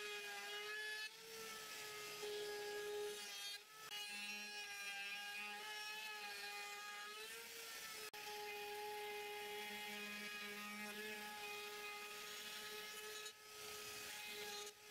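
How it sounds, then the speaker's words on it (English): A router fitted with a flush trim bit mills oak edges along a template, giving a steady, loud high-pitched whine with tonal harmonics and brief dips as the cut changes, with no voices. "then mill with a flush trim bit"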